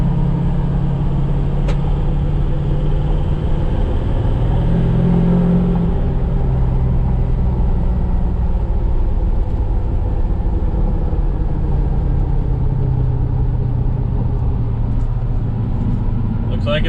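A Ford 6.0 diesel truck engine rumbles steadily throughout a test drive, a constant low drone heard from inside the cab.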